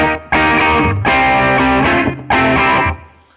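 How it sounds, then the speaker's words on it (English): Distorted electric guitar through a Line 6 POD HD500X with echo and reverb, three loud strummed chords, each ringing out and trailing off into a fading echo. "Let's take a listen to what it's going to sound like if I have that echo on as well."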